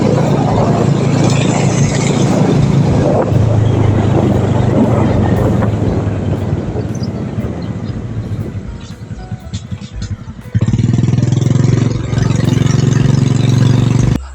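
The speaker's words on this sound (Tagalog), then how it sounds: "pinabilis-bilis na namin ang pag-andar ng motor" A motorcycle engine runs steadily up close, its drone easing off briefly before surging back louder.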